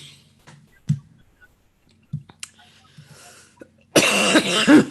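A few sharp coughs scattered through a quiet stretch, then a loud burst of throat clearing and coughing near the end.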